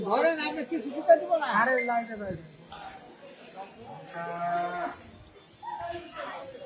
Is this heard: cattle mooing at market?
yes